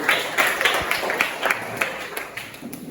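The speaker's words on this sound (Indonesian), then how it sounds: "tepuk tangan untuk kita semua" Students applaud in a classroom, a short burst of dense, uneven clapping at close range that tapers slightly toward the end.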